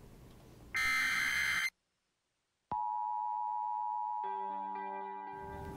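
An emergency alert system test plays its harsh buzzing attention tone, then cuts to silence before a steady electronic tone sounds, joined by a second lower pitch, loud and clean with no talking.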